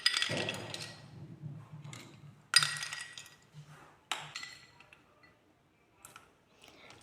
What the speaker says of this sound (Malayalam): ഐസ് ക്യൂബും കൂടി ഇട്ട് കൊടുക്കാം